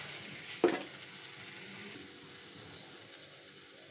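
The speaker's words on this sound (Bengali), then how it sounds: "যেহেতু মশলাটা কষানো হয়ে গেছে" Ground chilli paste, turmeric and salt frying in a pan, with a brief sharp sizzle burst near the start that settles into a steady low hiss and crackle.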